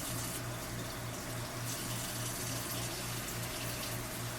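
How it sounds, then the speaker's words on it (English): Steady rush of running water pouring from a tap, continuous and fairly close, with a low hum underneath and no talking. "Run the cold water."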